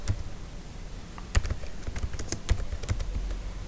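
Fingers tap irregularly on a computer keyboard, close and fairly quiet, with scattered sharper key strikes over a faint background hiss.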